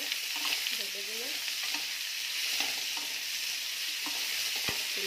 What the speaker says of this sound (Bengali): এবার আমি কুমড়োটাকে ভেজে দিলাম